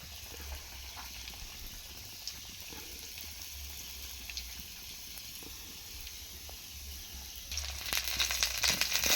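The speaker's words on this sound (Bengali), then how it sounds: "তো এইভাবে তাই তেলের মধ্যে দিয়ে দিচ্ছি মোমোগুলো" Chicken momos deep-frying in hot oil give a steady, low bubbling hiss that turns into a louder, busier crackle near the end.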